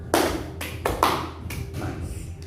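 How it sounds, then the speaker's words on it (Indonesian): Several sharp hand claps from an audience at an evening sharing session for trainee preachers, heard as separate bursts, the first three close together and two or three softer ones after, with no talk over them. "3 kali tepuk tangan dulu dong"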